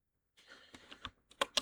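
Someone types on a computer keyboard on a Python typing-practice website, producing a short burst of about eight crisp, close key clicks in an uneven rhythm after a brief silence.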